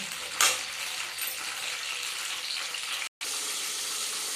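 Chillies fry in hot oil with a steady, bright sizzle close by, with a sharper spatter early on and a brief cut to silence before the crackling resumes.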